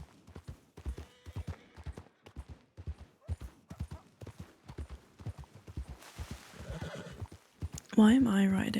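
A horse in the Red Dead game on the WildRP server trots with steady clip-clop hoofbeats under ongoing conversation, then lets out a loud, close whinny right at the end.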